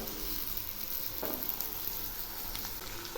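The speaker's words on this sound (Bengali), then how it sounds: "এই সবজিগুলো খুব ভালো করে ভেজে নেব।" Mixed vegetables with slit green chillies fry in a pan, giving a steady close crackling sizzle with a brief stirring scrape partway through, unaccompanied by speech.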